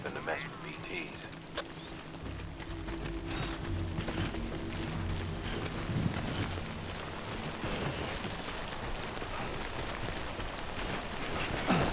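Steady rain pours across a surface in the video game Death Stranding, a dense continuous wash of drops with occasional low rumbles, while a voice speaks over it throughout.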